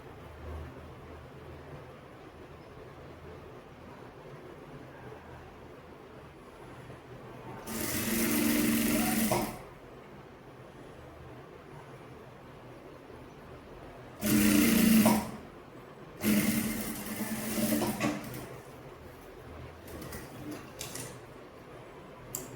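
An electric sewing machine runs in three short bursts while stitching kurti fabric, a rapid whirring clatter lasting a second or two each time, separated by quiet room tone.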